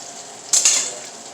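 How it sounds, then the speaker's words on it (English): Tortilla mixture hits a hot pan with a sudden burst of sizzling that swells briefly and then settles to a steady, softer frying hiss, close and clear with no voices. "You can see it's starting to sizzle there"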